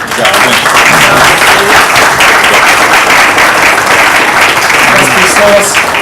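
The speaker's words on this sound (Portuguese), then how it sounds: "Peço aí uma salva efusiva de palmas para o senhor" A large audience gives sustained, loud applause for an honoree at a Brazilian law lecture, dense steady clapping filling the whole stretch with no talk.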